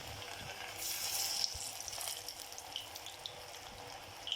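Alu vadi, colocasia-leaf rolls, frying in oil over a medium gas flame, giving a soft steady sizzle with faint bubbling pops that swell briefly and then settle into a quiet hiss.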